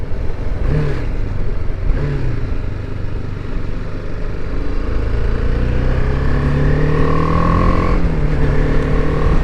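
Motorcycle engine droning steadily while riding, loud and close, with the pitch rising and falling through gear changes and a sustained roar over wind noise.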